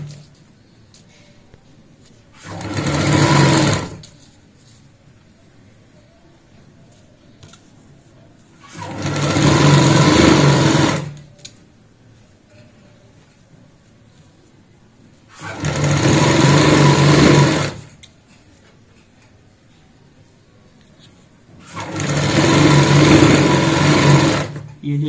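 A sewing machine stitches a doormat made from a jute sack in four distinct bursts of steady, close mechanical whirring, each lasting a couple of seconds, separated by quiet pauses.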